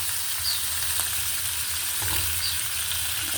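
Tomatoes sautéing in a pan, giving a dense, steady, close hiss of frying with faint scrapes of stirring and no talking.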